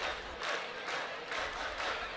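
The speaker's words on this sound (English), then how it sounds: "busy, active crowd," Busy, active crowd at a minor league baseball game between the Biloxi Shuckers and Rocket City Trash Pandas, a broad, swelling murmur of many voices at a distance, with surges of chatter.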